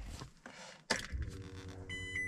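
An alarm on a finished build beeps in a steady high electronic tone near the end, after some handling clatter and a sharp knock.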